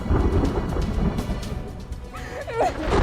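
Heavy rain pours during a thunderstorm, a dense steady roar with rumbling thunder underneath, while a few sharper splashes and a brief tonal sound rise near the end.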